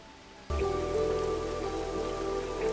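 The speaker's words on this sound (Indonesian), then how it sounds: "namun lagi-lagi hujan turun" Rain in a film scene, starting abruptly and then falling as a steady, dense hiss of drops on surfaces, close and fairly loud, with a faint low tonal drone beneath and no talking.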